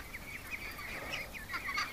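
Ducks in a pen give a stream of soft quacks and clucking chatter, overlapping in small bursts at moderate distance over a faint outdoor background.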